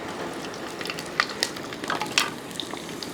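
Garlic pieces frying in hot coconut oil with fenugreek for a Kerala mackerel fish curry, giving a steady close sizzle with a few sharper crackles and spatters.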